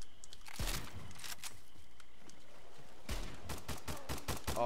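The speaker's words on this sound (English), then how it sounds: "now I'm getting sniped at by a real enemy" Gunfire in the shooter game Stalcraft, a few sharp shots followed by a rapid burst of cracks, loud and close with quiet gaps between.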